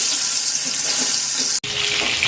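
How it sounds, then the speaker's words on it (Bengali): Duck eggs dropped into hot mustard oil in a pan over a lowered gas flame sizzle and crackle with a loud, steady hiss, briefly cut by a sharp dropout before the frying resumes, close by and with no talk. "এবার এতে ছেড়ে দিচ্ছি ডিমগুলো।"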